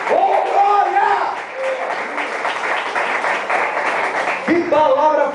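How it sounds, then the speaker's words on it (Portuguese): A church congregation claps together in the middle of a service, a dense burst of applause with a voice speaking just before and after it. "Palmas para o Senhor Jesus."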